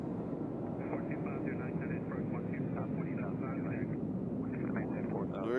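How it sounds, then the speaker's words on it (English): An American Airlines jet arriving from Dallas at Nashville International Airport roars steadily as a broad, continuous rumble, with people talking over the engine noise. "So here's American Airlines coming in from Dallas."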